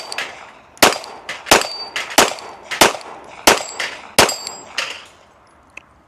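Pistol shots ringing off steel popper targets at a range, about nine sharp evenly spaced reports each followed by a metallic clang, close and loud, with one faint final tick.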